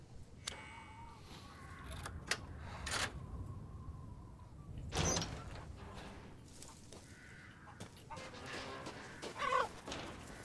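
Chickens cluck repeatedly in a farmyard in the video game Resident Evil Village, the irregular clucks and squawks mid-distance over a steady low ambient rumble, with a sharper louder burst partway through.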